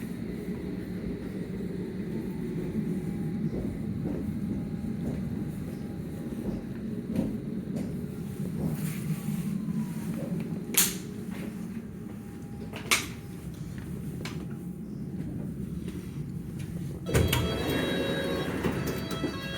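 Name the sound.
London Underground Metropolitan line train running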